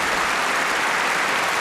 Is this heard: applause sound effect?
yes